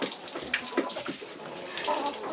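Water is poured onto frozen ice during a hard freeze at an off-grid site. A short, fairly quiet splashing trickle comes in small bursts from close by.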